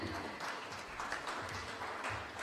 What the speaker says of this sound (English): Let's have a round of applause and welcome Madam as well.